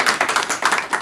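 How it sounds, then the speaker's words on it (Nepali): Audience applause breaking out after a talk on a magnitude 8.3 earthquake and tsunami, a dense patter of many hands clapping steadily throughout, fairly loud and close. "वाउ ताली"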